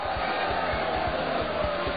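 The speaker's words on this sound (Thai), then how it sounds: "ขอเสียงปรบมือให้กับรุ่งราวีสศิประภายิมด้วยครับ" Crowd at a Muay Thai fight cheering and clapping for the winning boxer, a steady roar with rhythmic noise throughout, no clear speech on top.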